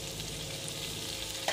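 Garlic, red chilli and tomatoes fry steadily in a pan for a fish curry, a constant close sizzle with faint stirring scrapes and a small clink near the end.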